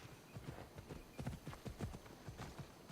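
Horse hooves clip-clopping in a video game, a steady run of close, rhythmic hoofbeats at a trotting pace with no talk over them.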